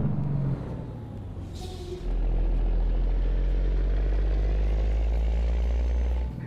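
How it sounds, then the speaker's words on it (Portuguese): A heavily loaded Scania truck in Euro Truck Simulator descending a mountain road, its engine brake kicking in with a loud, steady low drone that jumps in strength partway through and holds, with no talk over it. "Ela tem freio motor, galera,"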